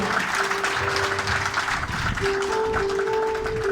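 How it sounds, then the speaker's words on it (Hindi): Dense crowd clapping at a pigeon racing club's combined race award ceremony, holding steady and loud for the whole stretch, with faint sustained tones underneath. "तालियां जारी रखिएगा।"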